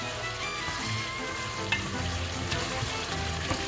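Chicken adobo with oyster sauce sizzles in a pan while being stirred, making a close, continuous frying hiss with soft scraping and a faint clack, and no voices.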